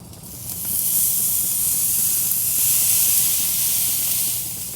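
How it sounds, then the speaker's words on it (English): A New York strip steak hits a hot Monument Denali 605 Pro gas grill and sears with a loud, continuous hissing sizzle that swells in the first second and holds steady close by. "let's get this New York strip on."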